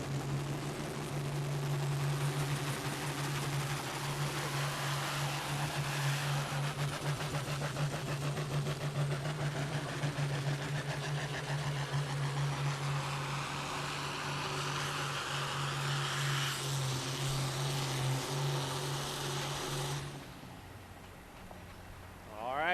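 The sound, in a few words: pulling truck engine at a truck and tractor pull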